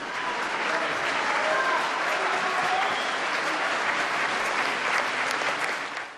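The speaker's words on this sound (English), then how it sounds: "But the biggest payoff was the audience's applause." A concert audience gives a French pianist warm, sustained applause, dense and even clapping that carries on throughout and tapers slightly at the end, with faint voices underneath.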